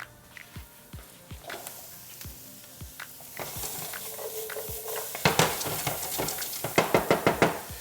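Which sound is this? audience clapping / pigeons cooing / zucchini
zucchini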